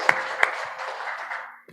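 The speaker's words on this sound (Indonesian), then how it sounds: "Tepuk tangan buat Tuhan Yesus." A church congregation claps during a Sunday worship service, with two sharp loud claps standing out above a dense, steady wash of applause that fades near the end.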